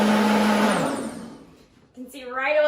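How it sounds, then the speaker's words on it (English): Blender running a heated, pulsing self-cleaning cycle with water in its glass pitcher: a loud, close motor whir that winds down and fades out, after which a person starts speaking. "it's gonna use heat as well as a pulsing action, a pre-programmed setting to actually clean the entire blender"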